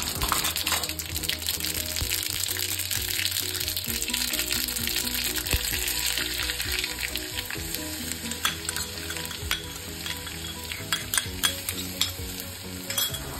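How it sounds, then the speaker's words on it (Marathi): Mustard seeds and finely chopped garlic fry in very hot oil for a garlic tempering poured over besan pithla, giving a steady close sizzle with scattered pops and crackles, and no talking. "कडकडीत तापलेल्या तेलामध्ये मोहरी आणि बारीक कापलेला लसूण खरपूस होईपर्यंत तळून घ्या"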